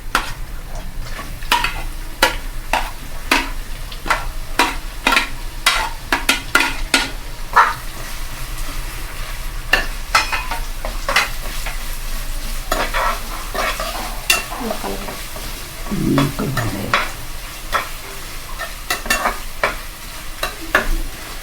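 Grated carrot sizzles in hot oil for mango pulihora while a spoon stirs it, scraping the pan in a steady, rapid rhythm; the sound is close and even, with no talking.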